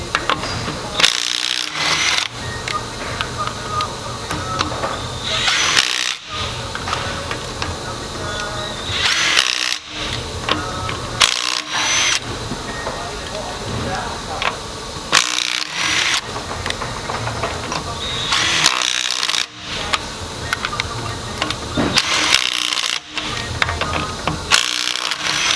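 A Bauer 3/8-inch impact gun hammers at lug nuts torqued to around 100 foot-pounds, with loud rattling bursts separated by short pauses and some background mechanical clatter.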